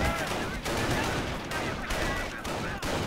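Machine gun fire in Company of Heroes: loud, continuous rattling bursts with short gaps between them, dense and close, amid battle noise.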